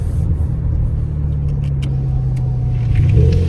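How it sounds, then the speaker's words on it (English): Steady low engine and exhaust drone from a 2026 Porsche Panamera GTS while driving, heard from inside the closed cabin, with road rumble throughout and a slight swell in revs near the end. "I am going to leave the windows up so we get less wind noise and you can kind of hear the motor"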